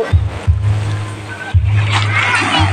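Water splashes and churns at close range as children bathe in the sea, with broken surges of spray over a low rumbling background.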